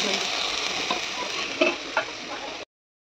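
Potatoes and long beans frying in a pan, a continuous close sizzle with a few sharp scrapes and clinks of stirring near the end before it cuts off.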